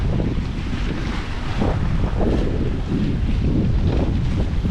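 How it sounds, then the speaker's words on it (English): Strong wind at sea aboard a 26 ft sailboat sailing solo toward Hawaii under a triple-reefed mainsail and storm jib, in about 20 knots: a steady, loud roar of wind buffeting the microphone, with waves washing along the hull. "Working in about 20 knots of wind right now."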